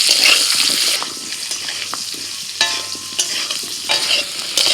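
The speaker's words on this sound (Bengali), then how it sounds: "এবার ওই তেলেই আলুটাও ভেজে নেব।" Potatoes, new-season Chandramukhi variety, frying in oil left from frying eggs for an egg curry, with a steady close sizzle, a spoon stirring and scraping now and then, and a few sharp clinks.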